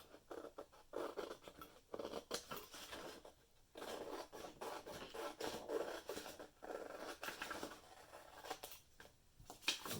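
Paper from a vintage cookbook being cut to size for a junk journal, with steady snipping, rubbing and scratching close by over about ten seconds, no talking.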